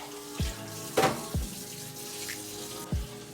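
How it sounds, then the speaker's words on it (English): Tap water runs steadily while oil paint brushes are washed under it, with a few soft knocks and splashes against the sink, close and moderately loud. "And then we're gonna wash our brushes."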